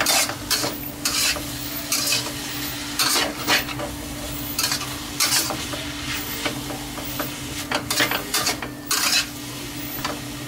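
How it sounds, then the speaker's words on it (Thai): Vegetables stir-frying with oyster sauce in a pan for Thai fried spring rolls, a steady close sizzle broken by repeated scraping and clanking of a spatula against the metal pan, with no talking. "หลังจากนั้นผัดก่อนนะครับ"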